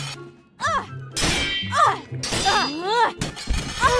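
Sword strikes in combat in a video game: several loud metallic clangs and ringing hits come in quick succession alongside shouting voices.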